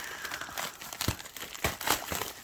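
Crinkly plastic of a sealed jewelry mail package being cut open, with close, irregular crackling and rustling bursts that stay fairly quiet throughout.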